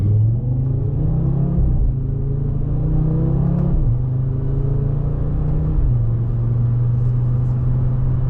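An Audi RS3 engine accelerates hard toward redline, the loud, close exhaust note climbing steadily in pitch, then dropping briefly at each of several upshifts before rising again.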